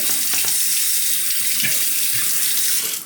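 A tap runs steadily into a sink while a straight razor is honed on a Rozsutec Dilucot stone, a constant close hiss of water with faint scraping touches and no talk.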